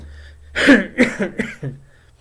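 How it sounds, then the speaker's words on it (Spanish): A series of four or five harsh coughs in quick succession, close and fairly loud, tapering off at the end. "aún sigo con un poco de tos"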